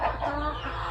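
Free-ranging pasture chickens clucking, a soft continuous murmur of hen calls close by, no talk.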